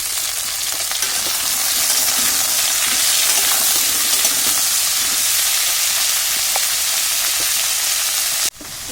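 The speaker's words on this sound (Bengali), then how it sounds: "বেগুনগুলো দিয়ে একটু ভালো করে ভেজে বেগুনেতে একটু লবণ দেবো" Eggplant pieces fry in hot oil in a pan with a loud, steady sizzling hiss that holds for several seconds close up, then cuts off abruptly near the end; no one speaks.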